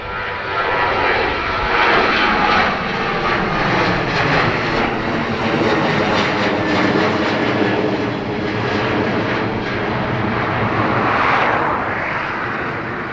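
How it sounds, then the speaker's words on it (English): Ryanair airliner flying at Dublin Airport, with a loud, sustained engine roar that builds, holds steady and then slowly fades as the plane passes, no talk heard. "Ryanair, I think, heading to Rovaniemi"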